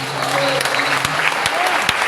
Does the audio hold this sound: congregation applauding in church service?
yes